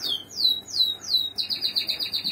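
A caged breeding bird, a good-sized red snowy type in cage 20, gives a bright series of descending whistled chirps followed by a quick repeated trill, close and clear with no voices.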